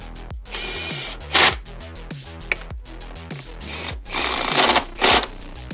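A power screwdriver tightens screws on a car engine in repeated short bursts of close, loud whirring, each ending in a sharp ratcheting stop, with brief pauses between screws.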